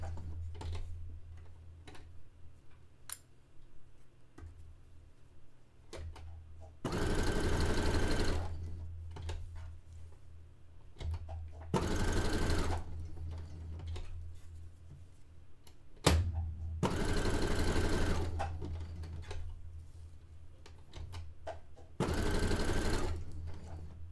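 A sewing machine stitches lace onto a dress made from bed sheets, running in four distinct loud bursts of rapid whirring with quiet pauses and small clicks between them.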